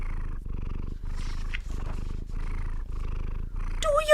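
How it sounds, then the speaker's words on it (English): A cat purrs steadily up close in a quiet room, the low rumble pulsing in a regular rhythm of breaths, followed by a brief higher squeak at the end. "And then he began to purr."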